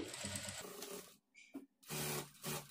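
Sewing machine stitching a blouse lining with rough starting stitches, running in two loud bursts separated by a brief pause with faint mechanical clicks.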